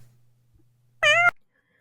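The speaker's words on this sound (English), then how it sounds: "here's the one cat in my presentation for you cat people." A single short cat meow, clear and close, sounds once after near silence with a faint low hum.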